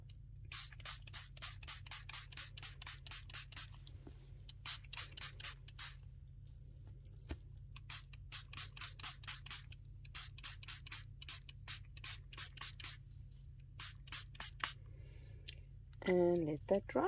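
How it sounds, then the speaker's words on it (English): Vintage photo or tea dye colour spray is spritzed in rapid repeated bursts, close and crisp, a long run of short sharp hisses with brief pauses, ending with a louder rustle. "So again, going to spritz that."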